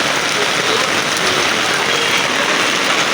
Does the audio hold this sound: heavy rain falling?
yes